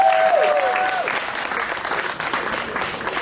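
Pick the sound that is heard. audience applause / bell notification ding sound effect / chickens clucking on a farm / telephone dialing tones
audience applause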